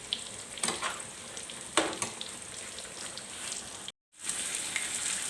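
A tuna sauce of tomatoes and onions sizzles in a pan with bay leaves and thyme, a steady crackling fry with a few stirring knocks and a momentary dropout.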